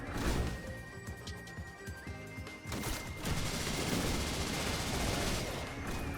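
Rapid laser gatling gun fire in the video game Risk of Rain Returns, a dense, continuous barrage of crackling shots with impacts layered over game music throughout.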